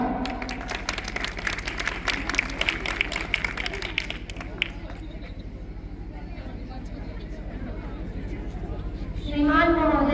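An audience at a school question-and-answer session for Pariksha Pe Charcha 2024 bursts into dense clapping for about four seconds, then the applause fades into room murmur, and a voice begins near the end.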